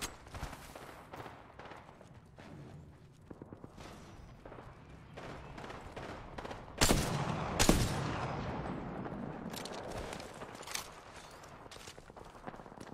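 Gunfire in the video game Apex Legends: scattered sharp shots and quick bursts, mostly moderate and distant, with a louder cluster of close blasts midway.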